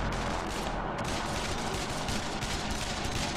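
Gunfire in the tactical game Breach & Clear: Deadline Rebirth, a dense, unbroken barrage of shots and booms that runs loud and close from start to finish, with no talking.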